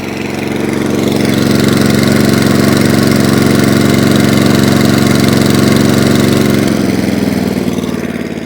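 A petrol engine on an Atco Balmoral lawn mower with a slightly sticky throttle idles steadily and close by, a loud continuous drone that dips slightly in pitch near the end.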